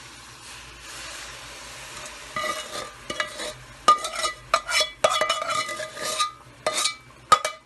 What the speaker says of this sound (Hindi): अब इसमें डालेंगे शीरा।